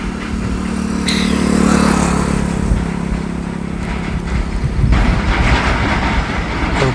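An Indian Army vehicle on a trial run across a newly built bridge rumbles past with a steady engine drone and rattling, loud and close, with no voices.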